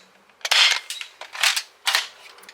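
Adventure Force Deuce Pro toy dart blaster fitted with a muzzle brake, fired in a quick run of about four sharp snapping pops, each with a short plasticky clatter, close and clear.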